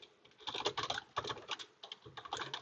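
Rapid typing on a computer keyboard, a steady patter of close, fairly soft keystrokes in bursts with brief pauses, no voices.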